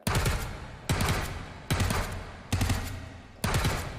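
An MP5K submachine gun in a VR shooting game fires five three-round bursts, each a loud, sharp cluster of shots followed by a brief decaying tail, spaced almost evenly about a second apart.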